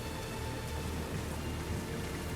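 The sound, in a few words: rain in video game Unicorn Overlord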